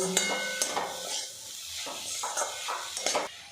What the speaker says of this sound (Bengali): পরিমাণ মতো লবণ দিয়ে দেব আবারও নাড়াচাড়া করে নেব